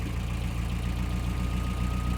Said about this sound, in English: the engine's running crappy now because it's trying to compensate